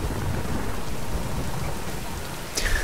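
A thunderstorm in the Tomb Raider video game: steady heavy rain hisses and patters with a deep rumble of thunder underneath, and a brief sharp crack near the end.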